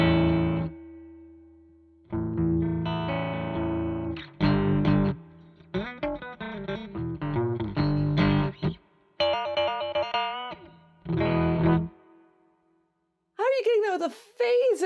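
Gritty, near-distorted synthesizer tones through a Moogerfooger phaser plugin with a swirling phaser sweep, played in short phrases and sustained chords with gaps between.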